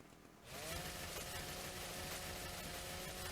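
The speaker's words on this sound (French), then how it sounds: "je vais les dépecer à la tronçonneuse." A chainsaw in the video game ARK starts up after a brief moment and runs at a steady, buzzing high rev while skinning creatures, loud and continuous with no talking.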